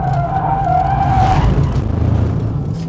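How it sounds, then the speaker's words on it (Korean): A Mercedes-AMG CLA45 S, a 421-horsepower front-drive-based car, skids through a tight turn at the Inje circuit, its tires squealing loudly and steadily for over a second above a continuous engine drone that carries on to the end. "드리프트를 하면 안 되는데 자꾸 드리프트를 하려고 하네요"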